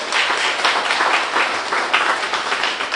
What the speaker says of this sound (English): if you want to give her a nice round of applause